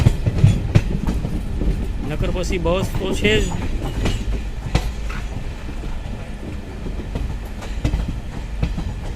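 A train on the Surendranagar to Bhavnagar route rumbles along the rails with rhythmic clattering and a brief squeal of wheels; a person speaks briefly near the start.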